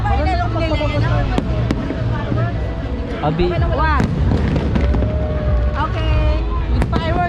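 Fireworks going off during a celebration in the Philippines, a dense series of sharp bangs and crackles, with people talking and calling out loudly over them.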